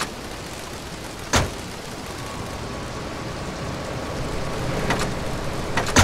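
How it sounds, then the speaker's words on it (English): Steady rain hisses throughout in GTA Vice City, with a sharp crack of thunder early on and a few more thunder strikes toward the end. "I think it will rain today."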